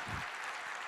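Church congregation applauding during a worship service, a short burst of quiet, dense clapping that carries steadily through the whole moment.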